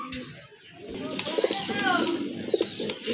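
A pair of white Kagzi pigeons offered for sale coo softly in short repeated bursts, partly under a voice talking nearby.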